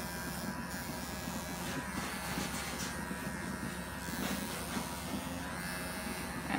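Electric clippers shear the full coat of a German angora rabbit with a continuous, fairly quiet close-up buzz that holds steady from start to finish.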